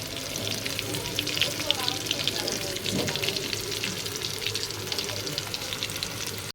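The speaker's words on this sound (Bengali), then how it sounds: "এখন সব আলুগুলো লাল করে ভেজে নিব।" Large pieces of potato deep-fry in oil in a kadai for homemade kachchi, giving a dense, steady, close sizzling hiss with occasional light stirring knocks.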